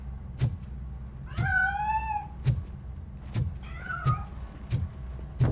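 A cat meows twice in the video game RoboCop: Rogue City, with rising, tonal cries standing clear over a steady low hum and evenly spaced soft thumps, no voices present.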